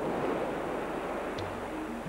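Indian Ocean surf breaks and washes onto a leatherback turtle nesting beach, a steady broadband roar that continues without pause throughout, close and fairly loud, with no voices.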